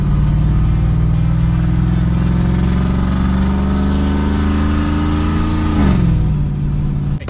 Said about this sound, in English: cut the muffler off, start your V8 up